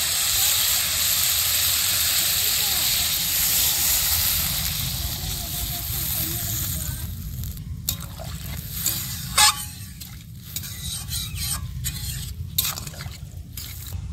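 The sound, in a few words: water poured into frying fish curry masala, steaming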